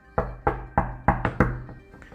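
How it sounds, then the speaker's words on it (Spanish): Someone knocks on a door with about six firm, evenly spaced raps in quick succession, close and clear, with no voices. "Tocó la puerta."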